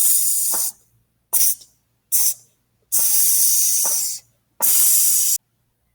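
Students hiss a rhythm together in unison, a voice imitating sizzling: five bursts of bright hissing, short and long, with silences between, matching half and quarter note lengths in a music lesson.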